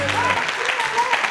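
Audience applause breaks out at a recitation contest, steady clapping running under a voice that speaks over it for the short stretch.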